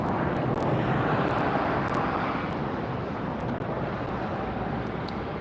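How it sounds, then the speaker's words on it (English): Cathay Pacific airliner taxiing at LAX after landing: a steady, loud jet-engine roar with broadband rushing noise and some wind buffeting on the microphone, continuous throughout, with no talking. "take another look at this Cathay Pacific here that we just watched land as it taxis up"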